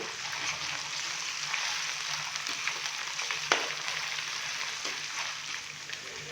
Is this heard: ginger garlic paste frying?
yes